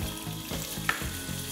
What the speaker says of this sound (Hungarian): Ez miért nem sül?